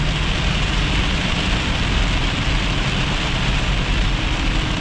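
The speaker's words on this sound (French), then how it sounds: "Donc là, c'est le déluge." Heavy rain pours down in a thunderstorm in July, a loud, dense, unbroken roar of water that stays level from start to finish with no voices.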